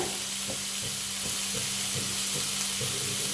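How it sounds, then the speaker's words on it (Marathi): Broccoli goes into a pan of reddened garlic frying in oil, giving a soft continuous sizzle with small crackles and stirring scrapes at a fairly even rhythm, fairly quiet and close. "लसूण लाल झाल्यानंतर ना त्याच्यात ब्रोकोली घालते"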